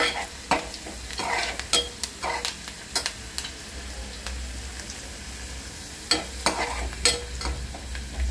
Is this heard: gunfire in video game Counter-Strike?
no